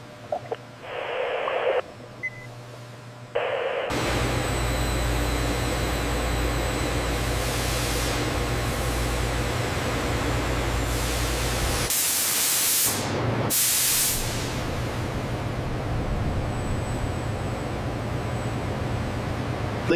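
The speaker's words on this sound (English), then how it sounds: "Spray drying is the heart of cheese powder production." Spray dryer atomizing liquid cheese into cheddar cheese powder, giving off a loud, steady spraying hiss like white noise that keeps going with brief breaks and bursts, and no voices.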